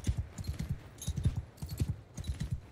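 Horse hooves clip-clop in a steady galloping rhythm in Mount & Blade II: Bannerlord, close and fairly quiet, with no talking.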